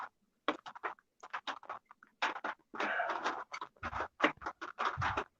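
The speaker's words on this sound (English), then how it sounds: "That rain sounds like popcorn." Rain pattering outdoors, close and crisp, with irregular bursts of rapid popping taps like popcorn, coming in clusters separated by brief quiet gaps.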